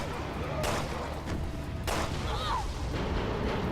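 Two separate gunshots ring out in the video game Resident Evil: Revelations 2, about a second apart, each a sharp crack over a constant murky game background.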